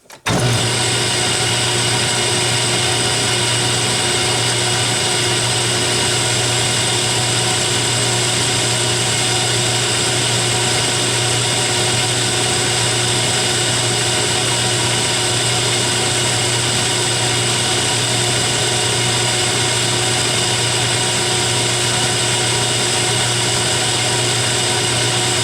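Metal lathe taking a final cut on a steel tailstock die holder: a loud, steady motor hum with constant whine and no pauses, continuing alone for the whole stretch after a sudden start.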